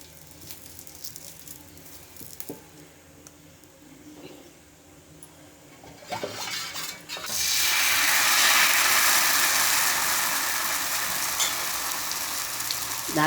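Ghavane, thin rice-flour crepes, hit hot oil on a pan in a Konkan kitchen. After a quiet stretch of faint clatter, a loud, steady sizzle bursts up and keeps hissing strongly to the end.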